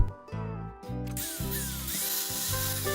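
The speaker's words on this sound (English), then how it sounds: "I'm using a diamond wheel on my grinder to try to make it where the mortar doesn't crack any further than this" An angle grinder fitted with a diamond wheel cuts into the mortar of a limestone porch column. It gives a loud whining drone with pitch shifts as the blade bites, and no one speaks.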